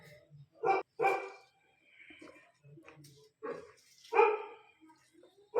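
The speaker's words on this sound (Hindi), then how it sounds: "मेरा डॉग ही भौंकने लगता है" A dog barks a few times at medium distance, short sharp yelps spaced irregularly, with quieter sounds in between.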